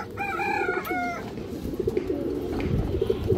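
A lively pigeon from an old black-winged bloodline gives a short harmonic call in the first second, then low cooing and fluttery bird noise continue close by against a busy loft background.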